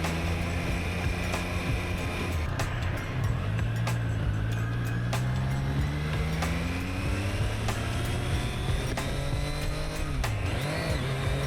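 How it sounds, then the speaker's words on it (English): A Triumph motorcycle pulls away with the clutch released abruptly, its engine note rising steadily as it accelerates, loud and close under steady wind rush, with no voices. "I released the clutch there a little too abruptly and ended up popping the front wheel up just ever so slightly."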